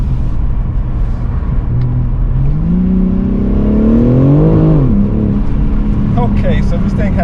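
A 2022 BMW M3 Competition G80 with a turbocharged engine in Sport Plus mode revs up, its rising and falling engine note swelling mid-clip over steady cabin rumble, with people talking throughout.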